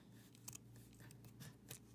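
Scissors snip through fabric while trimming handmade wood-and-fabric earrings, a few quiet, close crisp cuts scattered over a faint background hum, no talking.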